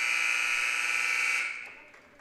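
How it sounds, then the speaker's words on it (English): A loud, steady electronic buzzer ends the first half of a 7th grade boys' basketball game in a school gym. It holds for about a second and a half and then fades away, with no voices over it. "Bushnell's going to get a chance to touch the ball before the buzzer goes off"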